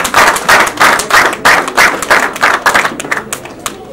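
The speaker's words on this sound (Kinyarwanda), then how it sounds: "Reka tubikomere amashyi rwose" An audience claps steadily at a lively community gathering, a dense run of hand claps with rhythmic pulses that thin out toward the end, loud and close, with no speech over it.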